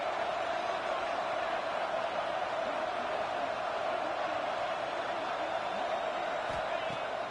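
Steady roar of a stadium crowd in an NCAA college football video game before a big third-down play, a dense continuous wall of cheering and noise with no pauses throughout.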